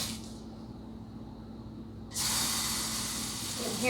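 Tofu with soy sauce sizzles in a hot pan, a steady hiss that jumps sharply louder partway through and then holds as a bright, close, continuous fry.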